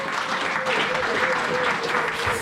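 A church congregation applauds Jesus Christ, a dense, steady roar of many hands clapping together in a large hall, with a voice faintly audible over it.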